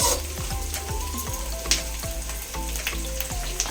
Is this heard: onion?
yes